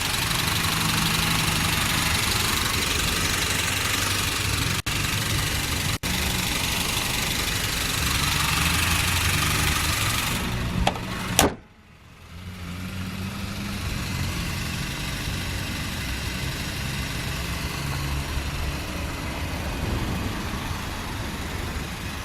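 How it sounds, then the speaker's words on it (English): A 2008 Honda Accord's 2-liter, 16-valve four-cylinder engine idles with a steady, even hum that is briefly interrupted by a sharp knock and dip about halfway through, then settles back into a quieter, smooth idle. "2008 Honda Accord comes with the 4-cylinder 16 valve."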